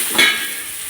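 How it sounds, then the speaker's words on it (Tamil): Vadagam spices crackle and sizzle briefly in hot oil for a prawn curry, a quick spattering burst at close range, then settle into a softer, steady hiss. "அடுப்பில் வடகம் எண்ணெய் ஊற்றி, கிணத்துல எண்ணெய் ஊற்றி வடகம் தாளிக்கிறோம் நாங்கள்"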